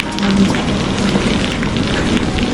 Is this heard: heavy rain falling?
yes